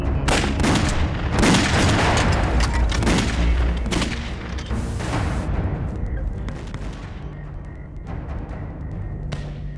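Gunfire from a war drama battle scene between Eighth Route Army soldiers and Japanese troops erupts as dense bursts of rifle and machine-gun shots with heavy booms, then thins to scattered shots toward the end.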